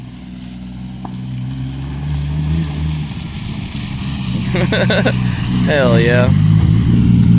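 Subaru-engined drag car with an open diff accelerating while one tire spins, a loud, steady engine drone that rises toward the end, close up, with someone talking and whooping over it.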